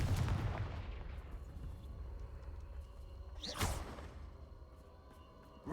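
Spell explosion from the Confringo fire spell in Hogwarts Legacy, a loud booming blast that decays into a rumbling tail, followed by a sharp whooshing burst midway.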